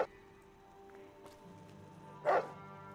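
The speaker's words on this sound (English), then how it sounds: "Dog's like, bork, bork." A dog in the video game Fallout New Vegas gives a single short bark near the end, loud and close over a quiet, steady game ambience.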